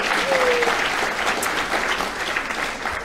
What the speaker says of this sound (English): Please give her a round of applause for planning today's event.